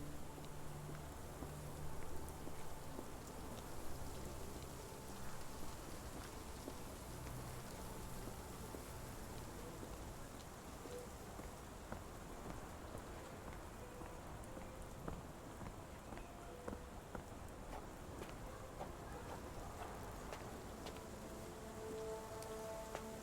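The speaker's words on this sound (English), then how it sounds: "And it's still raining." Steady rain falls throughout in the video game Sherlock Holmes: The Awakened, a dense hiss with scattered drops pattering on a surface, with no voices.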